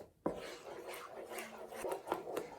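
Wheat-flour halwa batter is stirred continuously in a pan, giving soft, faint scraping and rubbing strokes in an uneven rhythm, close up and with no talking.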